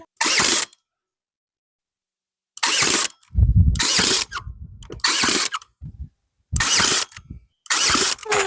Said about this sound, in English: I drill it and screw it.